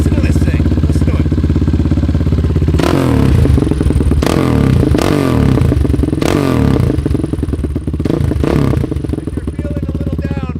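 A 1997 KTM 620 LC4 single-cylinder motorcycle, wearing a 620 SX Wizard tune, revs loudly and close, its throttle blipped in several sharp bursts over a rough, pulsing idle with some rattling clatter.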